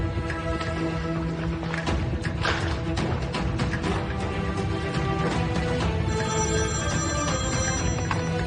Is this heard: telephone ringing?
yes